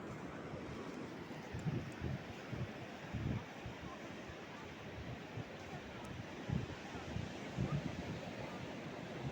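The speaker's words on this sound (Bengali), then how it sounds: "ওই যে একটু একটু করে ভেঙে ভেঙে ওই ভেঙে গেল ঢেউটা, ওই যে ভাঙছে বিশাল ঢেউ।" Sea waves roll and break on Puri beach, a broad continuous roar mixed with wind buffeting the microphone, fairly faint and steady with occasional louder surges.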